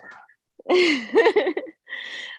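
A single sneeze bursts out mid-clip, framed by brief bits of voice before and after in a quiet indoor gathering.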